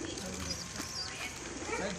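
Pigeons about to be released coo softly and intermittently beneath steady nearby talking, with some outdoor background noise.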